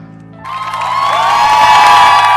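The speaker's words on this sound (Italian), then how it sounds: "applausi meritatissimi al nostro Gianluca Amore, qua dal vivo" Applause and cheering from a live audience greet singer Gianluca Amore after his live song, rising at once from near silence into a loud, sustained crowd roar with whistles and whoops.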